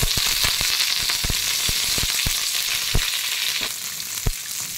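Garlic and curry leaves fry in hot oil with a steady, dense sizzle and crackle, punctuated by sharp pops and spatters; close and loud, with no voices.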